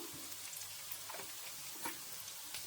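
Onions frying with asafoetida in a pan: a quiet, continuous hiss and crackle of sizzling oil with a few faint soft clicks, steady and low in level, no voices.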